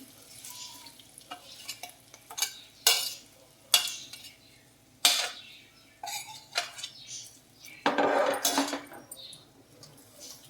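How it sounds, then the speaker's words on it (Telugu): Tamarind rice being stirred in a pan, a utensil scraping and clattering against the metal in irregular bursts, with a soft sizzle of oil underneath and no talking. "బాగా మిక్స్ చేద్దామండి"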